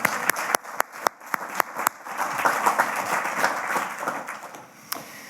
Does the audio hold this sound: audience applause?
yes